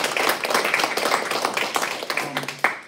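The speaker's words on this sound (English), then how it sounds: "let's give yourselves a round of applause" A congregation at a Unity church Sunday service claps together in a dense, steady ripple of applause that thins out toward the end, heard from a short distance.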